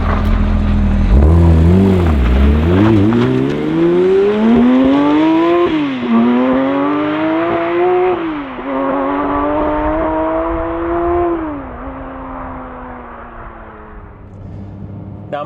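A Porsche 911 S/T with a lightened flywheel revs hard through rising and falling gear pulls, its engine note climbing, dropping at each shift and climbing again, loud and close with no voices.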